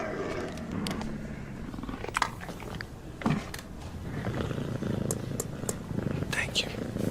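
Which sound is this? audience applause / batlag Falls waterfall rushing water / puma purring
puma purring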